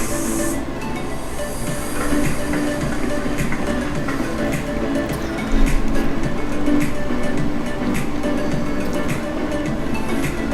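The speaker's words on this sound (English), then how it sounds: "Listen to that. Corellium engine." Corellium engine running in Final Fantasy XIV: a continuous, loud mechanical roar with rushing, hissing texture, steady throughout, with a brief low thump midway.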